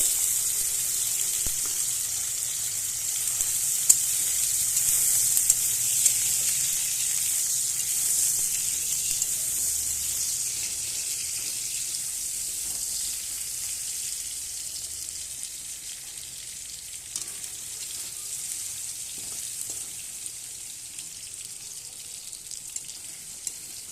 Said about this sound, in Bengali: পনিরটা আমি হালকা করে ভেজে নেব।